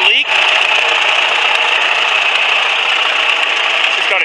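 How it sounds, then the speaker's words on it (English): An engine with an exhaust manifold leak runs at idle close by, a loud steady rattling tick with a fast, even pulse and no pauses. "Got a manifold leak."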